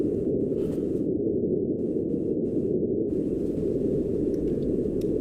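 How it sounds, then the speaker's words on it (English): Purple noise plays as a continuous, even rush like wind moving through a forest, steady and fairly loud throughout with no other sounds. "Purple noise sounds like wind in a forest."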